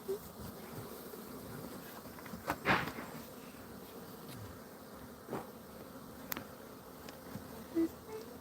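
A swarm of bees being gathered from between two wooden pallets gives off a faint, steady buzzing hum, with a few brief louder knocks and bumps rising above it.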